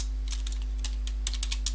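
Fingers typing a Linux logical volume reduce command on a computer keyboard, a short run of light, irregular key clicks over a steady low electrical hum, close and quiet.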